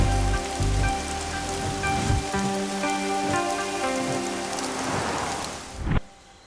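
Heavy rain pours steadily at a roadside stop, a dense continuous wash of drops with a few low rumbles early on, loud throughout before cutting away near the end; no speech.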